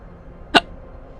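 A single short, sharp hiccup, close and clear, standing alone against a quiet background.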